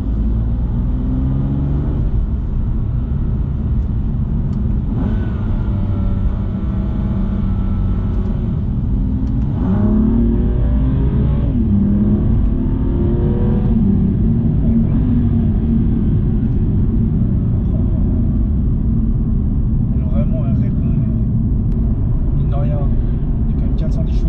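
A BMW M2 Competition with 410 hp and 550 Nm cruises in seventh gear, a steady low engine and road rumble running throughout while someone talks over it.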